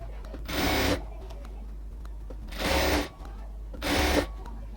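Sewing machine stitching a sleeve onto a dress made from a saree, three short bursts of rapid whirring stitching separated by pauses with a low hum underneath, close by.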